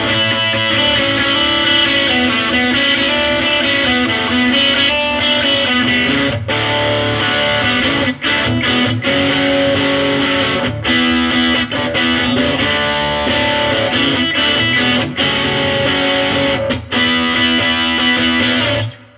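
A Keeley Blues Disorder guitar pedal set to its blues breaker side drives an electric guitar into loud, sustained distortion, with strummed chords ringing and cutting off in a steady riff.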